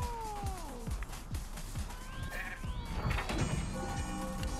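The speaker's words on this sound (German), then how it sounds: "Das ist eine Katze." A cat meows several times with rising and falling cries, mixed into busy background sounds and effects from the video game Tokyo Jungle.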